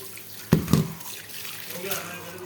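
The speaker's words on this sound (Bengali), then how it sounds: "এগুলো সেদ্ধ করা ডাল, কৌটা ভরা থাকে। আমি আগে থাকতে ধুয়ে নিছি, তারপর আবার একটু ধুয়ে নিই।" Tap water splashes over canned boiled lentils being rinsed in a kitchen sink, with a couple of sharp splashes followed by softer running water.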